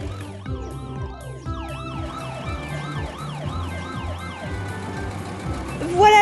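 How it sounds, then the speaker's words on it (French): A cartoon ambulance siren wails continuously in rising and falling sweeps, loud and close, layered with other cartoon traffic sounds and bright musical tones. "Regarde, l'ambulance roule très vite. Tout le monde la laisse passer."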